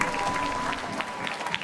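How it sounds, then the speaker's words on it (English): Brief burst of audience clapping at a district strings concert, the applause moderately loud and filling the room, with some crowd murmur mixed in. "Give him a round of applause."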